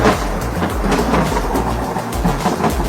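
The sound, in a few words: loud thunder during a storm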